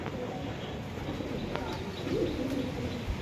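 A pigeon with a 2024 leg tag coos once, a soft, low, brief call that sits just above a steady hiss of background noise.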